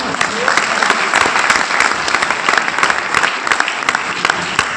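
An audience claps loudly at a motivational talk, sharp individual claps standing out over a thick wash of applause, with a voice briefly heard underneath.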